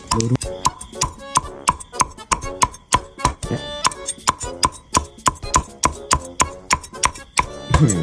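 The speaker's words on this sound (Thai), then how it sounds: "เดี๋ยวเรามาฟังเสียงหมูกรอบกันนะครับว่ากรอบขนาดไหน" A knife chops repeatedly through crispy pork belly on a board, sharp crackling cuts through the crunchy skin in a quick, steady rhythm, close up.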